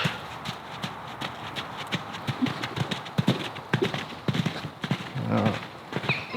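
Rapid hoofbeats pound steadily as a horse gallops, with faint background noise and scattered thuds throughout.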